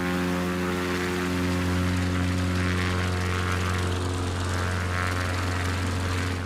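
A ski-equipped propeller plane in Microsoft Flight Simulator drones with a steady, loud engine hum and buzzing harmonics, holding level throughout with no talk over it.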